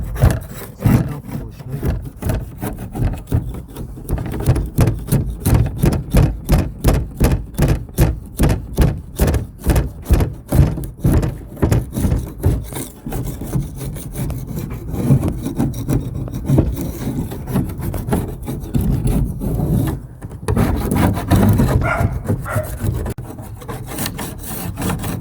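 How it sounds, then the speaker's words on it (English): Old mastic is scraped off a campervan under restoration with a hand tool, making a long run of steady, rhythmic rasping strokes, close and loud, with a brief pause before the scraping resumes. "Can you see me scraping off the mastic?"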